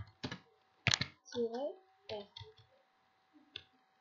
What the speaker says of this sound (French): On tape la commande iptable-f.